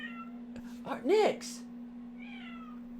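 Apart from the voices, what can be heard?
cat meowing loudly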